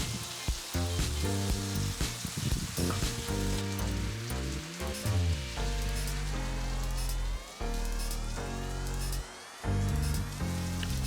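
Brussels sprouts with pancetta sizzling and crackling in a hot pan, a steady bright fizz broken by clattering stirs and clinks of a utensil.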